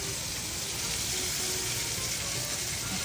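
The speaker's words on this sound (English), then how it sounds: "They might need a little more olive oil. Just to fry them up." Meatballs frying in olive oil in a pan for a homemade Italian Sunday sauce give a steady, dense sizzle that holds at an even level through the whole stretch, with no talking.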